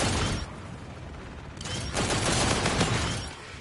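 The legendary G-Rail gun in a video game fires in rapid mechanical bursts. A short volley is followed by a pause, then a longer, louder stretch of fast clattering shots that tapers off.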